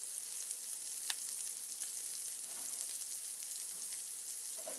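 Bacon, onions and mushrooms fry in a pan at 400 degrees, giving a steady, close hiss of sizzling fat with small crackles and pops throughout and no talking.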